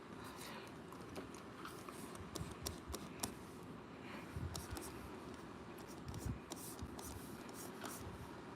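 Pencil sketching on paper at night, heard as quiet, scratchy strokes and rubbing with scattered light taps, faint and close, with no clear talk.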